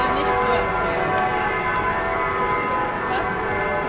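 Church bells keep pealing at about half past ten in the morning, a dense, continuous wash of overlapping tolls sustained throughout at steady loudness with no break.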